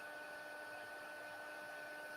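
A heat embossing tool heating up gives off a steady, even whir of blown air with a faint tonal hum, holding at constant loudness with no talk.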